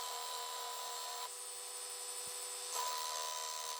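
A belt sander runs steadily on pallet wood while shaping a wooden bird, a constant high whine and rasp that shifts in tone twice as the pressure on the piece changes.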